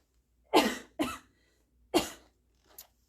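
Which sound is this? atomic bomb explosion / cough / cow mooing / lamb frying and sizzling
cough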